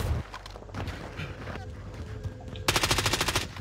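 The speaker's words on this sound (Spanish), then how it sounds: "¿Ya están disparando?" Automatic gunfire in the video game Call of Duty Warzone: sustained bursts of rapid shots, with a denser, louder rattling volley toward the end and faint voices in the background.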